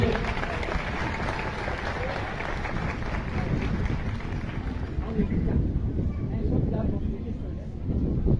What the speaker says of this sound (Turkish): Kocaman alkış.